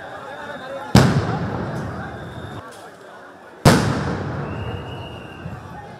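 Two sharp, loud blasts of police sound grenades about three seconds apart during a street clash between protesters and police, each followed by a rumbling decay and crowd noise.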